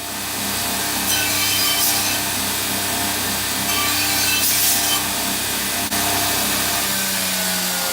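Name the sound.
grinding down edges of scrap metal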